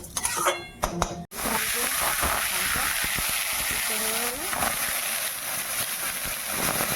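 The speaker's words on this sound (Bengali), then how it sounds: "বন্ধুরা ডালটা বেশি ভাজবেন না, একটু সেন্ট বেরোবে ডালটা ভাজা ভাজা" Lentils (dal) fry in a hot pan for khichuri, giving a steady, even hiss throughout after a short clatter at the start, with faint talking in places.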